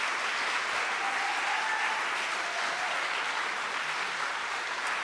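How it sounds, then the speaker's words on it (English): A round of applause from the audience at an Ethical Society gathering honoring lay leaders, steady and sustained throughout, a dense wash of clapping at moderate distance with no voices standing out. "Can we give a round of applause and thank you?"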